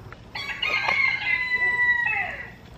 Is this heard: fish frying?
no